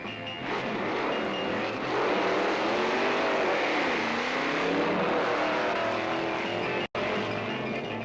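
Drag racing cars at a 1964 drag strip roar continuously and loudly, the engine pitch sweeping up and down as they accelerate, with no quiet gaps.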